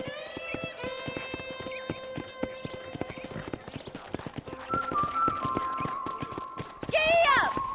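Horse hooves in Red Dead Redemption clatter in a fast, even clip-clop rhythm, close and steady, with a neigh near the end and talk over the hoofbeats.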